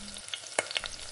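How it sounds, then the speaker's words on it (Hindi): Garlic and ginger frying in hot oil in a pan, a soft steady sizzle with a few brief stirring clicks and scrapes, close and fairly quiet with no talking. "पैन में दे देंगे थोड़ा सा तेल और तेल गर्म होने के बाद धीरे धीरे एक एक करके सब कुछ डालेंगे।"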